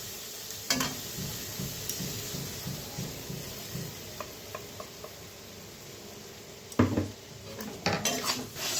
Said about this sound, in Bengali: তো ভালোভাবে নেড়ে চেড়ে নিই।